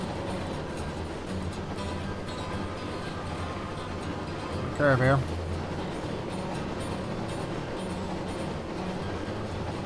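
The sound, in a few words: big train running in Railroads Online video game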